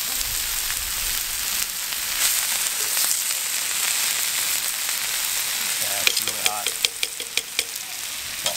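Vegetables sizzle on a volcanic rock barbecue, a steady close hiss with a few sharp ticks and clinks toward the end.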